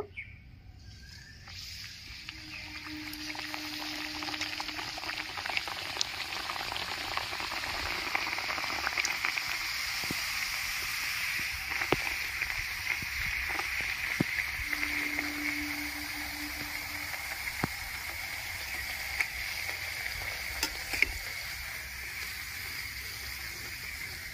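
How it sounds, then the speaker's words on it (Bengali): Food for a luchi and cholar dal breakfast frying in hot oil in a pan, a steady bubbling sizzle that holds evenly throughout, close by, with occasional faint clicks and no voices. "এবার এক এক করে আমি সব ভেজে নেব।"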